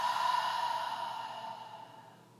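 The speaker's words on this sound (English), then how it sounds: "Take a deep breath in and exhale." A single deep breath drawn in and slowly let out during a guided meditation, a soft airy sigh that starts fairly loud and fades steadily over about two seconds, close and alone with no talking.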